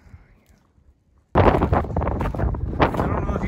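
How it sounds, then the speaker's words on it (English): After a near-silent moment, loud gusting wind suddenly roars across the microphone, rough and buffeting until the end. "this is how windy it is back up at the house"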